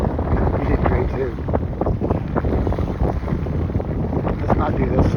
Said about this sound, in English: It was very rough, very windy.